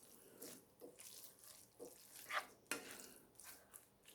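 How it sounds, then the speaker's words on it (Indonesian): Ladle stirring a baked spaghetti meat mixture in a pan over low heat, with soft, irregular scraping and wet shuffling strokes that come close and quiet. Brief sharper clinks stand out. "Aku lebih suka aduk pakai centong aja biar tercampur"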